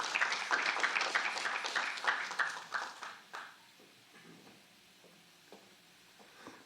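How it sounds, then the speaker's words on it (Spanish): Audience at an international political communication congress claps, loud and dense at first, then thinning and fading out after a few seconds, leaving a few scattered claps in a quiet room. "Por favor, fuertes palmas para Richard Tapia."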